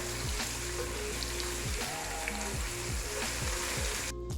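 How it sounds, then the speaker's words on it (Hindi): A tablespoon of garlic and ginger paste fries in very hot oil in a pan for chicken biryani, giving a steady close sizzle with periodic scraping strokes of a spoon. "1 टेबल स्पून भर के मैं लहसुन और अदरक का पेस्ट डाल दूँगी। इसको भी अच्छी तरह फ्राई कर लूँगी 1 मिनट के लिए।"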